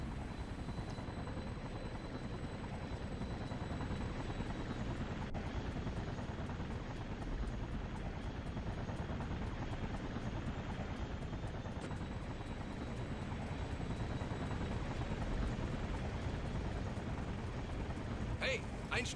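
A helicopter's steady rotor thrum and engine drone in the video game Infamous run continuously at moderate loudness, with a faint electronic tone above.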